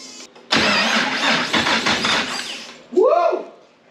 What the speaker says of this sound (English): Hopefully that starter motor will turn.